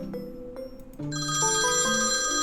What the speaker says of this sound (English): Ellie's phone begins to ring.